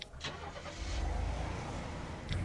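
A car engine in the Last Day Rules Survival game cranks and catches, settling into a steady mid-pitched idle with a small rev near the end, close and fairly loud.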